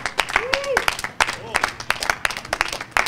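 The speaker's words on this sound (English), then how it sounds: "Give him a round of applause." Audience claps for a magic illusion during a stage show, with loud sharp bursts of clapping, mixed with whooping and cheering voices rising and falling.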